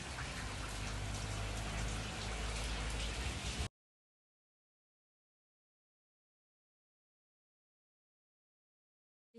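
Steady rain pours down in a garden, a dense, loud hiss of drops striking surfaces for a few seconds before cutting off into silence.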